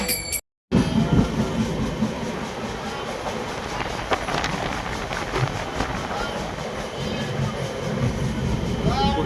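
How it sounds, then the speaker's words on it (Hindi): An Indian local train rolls along the rails with a continuous rumble, rhythmic clatter and occasional metallic squeals, heard close from on board. "यहाँ चल रहे हैं हमारी ट्रेन"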